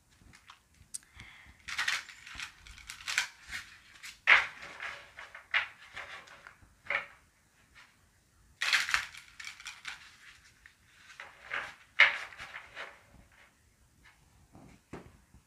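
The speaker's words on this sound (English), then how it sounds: "First, I'm gonna shuffle." Tarot cards shuffled by hand, riffled and cut in repeated bursts of soft papery flutters and slaps with brief pauses between them, close up and fairly quiet with no talking.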